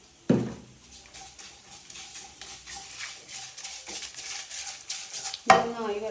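Turmeric and spices fry in oil in a pan, a faint, steady sizzle with soft stirring, bracketed by two sharp clatters of a utensil against the pan.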